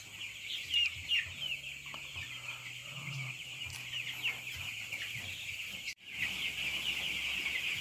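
Broiler chickens clucking and cooing in a shed with the curtains open, soft repeated calls over a steady mechanical hum, with a brief dropout near the end.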